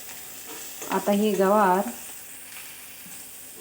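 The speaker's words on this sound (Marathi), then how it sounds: "तेलामध्ये गवार भाजून घ्यायचे" Cluster beans (gavar) fry in hot oil in a kadhai with a steady, soft sizzle, briefly under a short spoken phrase.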